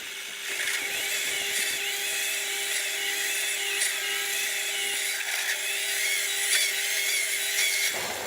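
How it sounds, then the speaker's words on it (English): A Chinese power drill runs steadily during the build of a Gingery milling machine, giving a continuous high whirring drone with a sustained steady tone, fairly quiet and alone with no talking. "people bellyache about these Chinese drills, but this one's behaving. Gearbox is getting hot."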